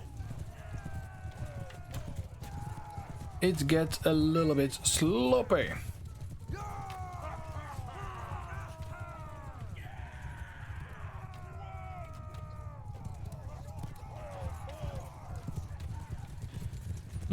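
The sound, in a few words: horse riders' hooves in Mount & Blade 2: Bannerlord video game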